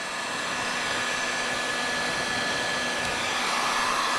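A heat gun blows steadily while warming vinyl graphics film during a graphics install, giving a continuous, even, hair-dryer-like whoosh of air and fan whine that holds level throughout with no talking.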